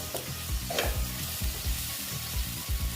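Spice paste for a Bengali fish curry with small bata fish, aubergine and potato fries in a pan, a close steady sizzle broken by rhythmic scraping stirs roughly every half second, with no talk.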